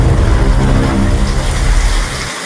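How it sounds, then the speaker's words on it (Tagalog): Heavy rain from Typhoon Paeng in 2022 pours down in a loud, dense, steady roar, tapering slightly at the very end. "lumakas pa ulan"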